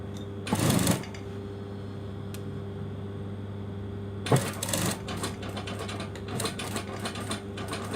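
A sewing machine sews a trouser seam while a zipper is being put in. There is one short burst early on, then a longer run of rapid stitching over a steady low mechanical hum, close and moderately loud, with no talk.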